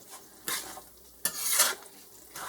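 Ground beef and onions for stroganoff are stirred together in a pan: a low background sizzle broken by a few brief, brighter scraping strokes of the utensil against the pan, fairly quiet and without talk.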